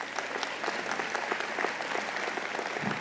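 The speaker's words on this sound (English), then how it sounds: "Give her a huge round of applause" Crowd applause at a State of the City event honoring an airport staffer, a thick, sustained clatter of many hands clapping at moderate distance, with no speech over it.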